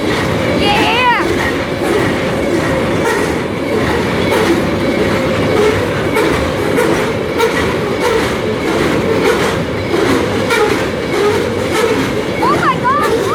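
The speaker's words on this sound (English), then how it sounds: "It's a coal train!" Loud, continuous rumble of a passing coal train, its wagons clattering rhythmically over the track with occasional brief wheel squeals, while people shout excitedly over the din.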